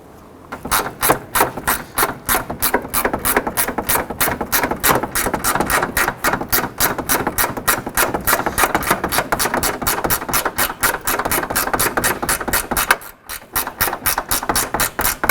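Bolts being installed on the cross member of a 2007-2011 Honda Civic, heard as a rapid, steady ratcheting clatter that runs close and loud almost without a break, with one brief stop near the end.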